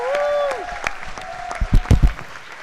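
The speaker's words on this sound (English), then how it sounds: "Can we give them a round of applause," Applause breaks out on a legislative house floor during a session, a few loud claps and a short ragged burst after a tone, with talk around it.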